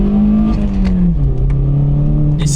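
A 1.6-litre petrol car engine fitted with a cold air intake and aftermarket exhaust revs loudly up close, a steady droning tone that sags slightly and settles.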